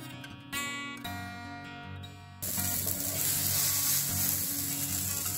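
Spices and ingredients for a dhaba-style cashew masala gravy roasting in a pan, a steady crackling sizzle that jumps louder partway through and continues without pause, no voices.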